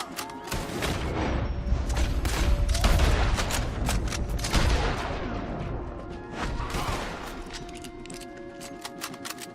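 Dense gunfire fills a Red Dead Redemption 2 shootout: rapid overlapping shots, loud and close, crack in a busy barrage that gradually thins out.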